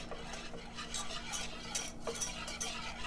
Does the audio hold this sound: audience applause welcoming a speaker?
no